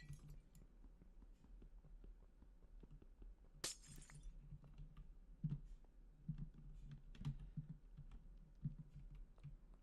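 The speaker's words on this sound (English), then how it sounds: "Okay, we're almost done with breaking the glass." Glass blocks shatter once with a bright, crisp crash in the video game Minecraft, set against quiet, steady keyboard typing and mouse clicks throughout.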